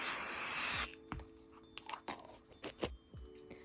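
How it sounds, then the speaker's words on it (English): A short, loud burst of spray adhesive hisses from a can onto felt embroidery pieces, followed by quiet rustling and tapping sounds. "just spray a little bit on there"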